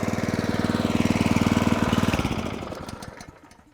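Petrol engine of an Allett Kensington 17 lawn mower running steadily with a fast regular chug, then easing off and winding down over the last second or so, close and fairly loud with no talk.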